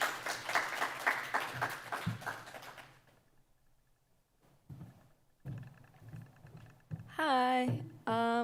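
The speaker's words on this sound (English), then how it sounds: "So how about a round of applause?" Audience applause at a poetry reading: a dense burst of clapping lasts about three seconds and fades into near silence, then a few faint sounds follow and a voice begins to talk.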